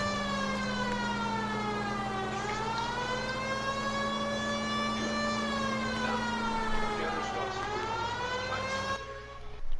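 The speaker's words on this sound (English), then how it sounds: "Do you not hear my sirens?" A police car siren wails continuously, its pitch sweeping up and down in long, loud cycles, close by and with no talking.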